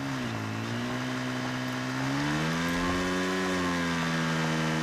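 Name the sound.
motorbike engine in a video game, sounding like a lawn mower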